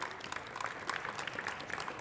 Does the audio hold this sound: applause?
yes